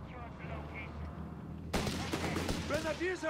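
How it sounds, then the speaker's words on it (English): A sniper rifle shot in Company of Heroes 3 cracks out suddenly partway through, followed by a burst of battle noise under a speaking voice. "There you go, sniper scores a hit."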